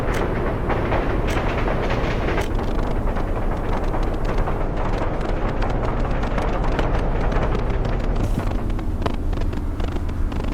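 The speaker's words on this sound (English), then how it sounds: "We're having even more trains coming, perhaps?" Trains rumble and clatter steadily through a railway scene in the city-building game Workers & Resources: Soviet Republic, with a continuous dense rolling noise of cars and wheels, fairly loud throughout with no speech.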